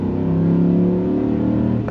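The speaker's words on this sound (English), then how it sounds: "First impressions is I really like the intake noise." A Ford F-150 with a 5.0 Coyote V8 and an S&B cold air intake revs loud and close, a steady deep engine roar with a sustained intake drone, no voices.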